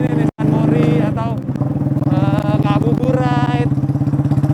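Yamaha Scorpio motorcycle built as a bobber softail, its engine thumping steadily and close while riding, with a person talking over the running motor throughout.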